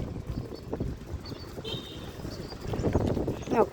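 Horse hooves clip-clop in a steady rhythm nearby, with outdoor background noise and a brief voice near the end.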